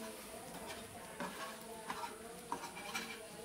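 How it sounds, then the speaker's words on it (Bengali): A ladle stirs and breaks up egg cooking in a pan, soft scraping strokes and light clinks at irregular intervals over a faint, steady sizzle. "একটা হাতার সাহায্যে একবার এইভাবে নেড়ে দেবো"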